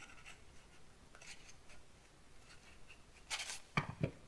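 A piece of black paper is trimmed during a card-making craft session: faint rubbing and handling of paper, then a short crisp cut followed by two small sharp snips, close and quiet.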